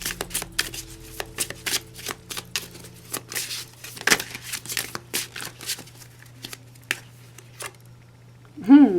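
Tarot cards shuffled by hand in rapid, crisp riffles and soft flicks, close to the mic, with a short pause now and then and a voice speaking briefly near the end.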